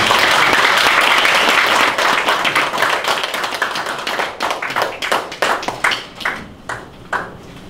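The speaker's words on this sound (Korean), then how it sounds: "김용인 강사님을 큰 박수로 환영해 주시면 감사하겠습니다" An audience welcoming a lecturer at an invited lecture event with loud, dense applause that gradually thins into scattered individual claps before dying away.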